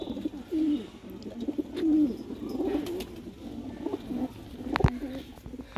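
Breeder pigeons in a home loft coo steadily and close by, with soft overlapping throaty calls repeating in a loose rhythm and a brief sharper knock near the end.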